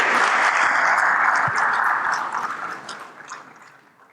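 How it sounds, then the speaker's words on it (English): Sustained applause from a conference audience at a CEO summit panel in Ghana, dense and steady at first, then fading gradually toward the end. "Please, another round of applause for them"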